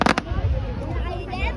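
Bonfire Night fireworks burst in quick sharp pops that break into crackling flares, loud and close, with people talking over the booms.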